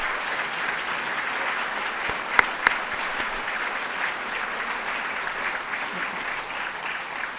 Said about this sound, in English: One last applause for our new members,